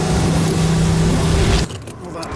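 A $30 million car's engine roars loud and steady, then abruptly cuts out as it stalls, dropping to a quieter rumble and faint rattles.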